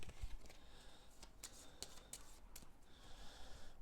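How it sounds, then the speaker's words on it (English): A deck of board game cards is shuffled up close and quietly, a few soft riffling and sliding bursts with brief snaps, faint and alone. "We'll shuffle up the deck here."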